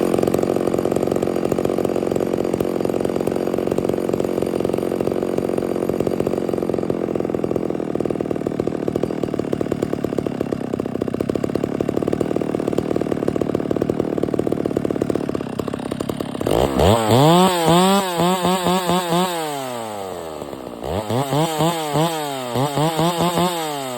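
A Stihl MS 660 chainsaw with a leaking fuel cap runs loudly and close, holding a steady rough idle for a long stretch before being revved hard several times in rising and falling surges.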